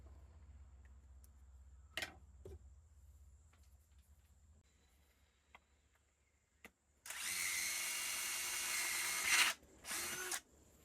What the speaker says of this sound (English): Okay, now to pre-drill.